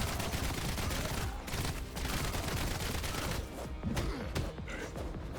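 Gunfire in the video game Kiborg: a dense, loud burst of rapid shots and thuds running the whole time, with game combat noise layered under it.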